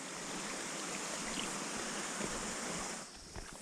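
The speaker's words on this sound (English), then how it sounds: "Nice little creek crossing, kinda." Water of a small creek in a forest flowing at a crossing, a steady close rush and hiss that eases slightly near the end.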